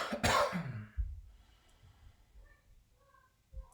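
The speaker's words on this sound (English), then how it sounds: "as you exhale, you're going to lean forward and cough 2 to 3 times" One loud close cough near the start, followed by quieter rough throat sounds and a faint short cough at the end.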